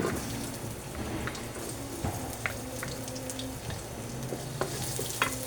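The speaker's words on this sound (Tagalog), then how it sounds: "Gisa na tayo. Bawang." Garlic sautés steadily in a pan of leftover cooking oil once used for frying tofu, a continuous close crackling sizzle with small scattered pops and no voices.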